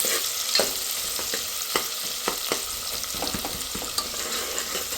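Sliced onions frying in a pan until light brown, a steady sizzle broken by frequent scraping and stirring knocks, close and fairly loud with no talking.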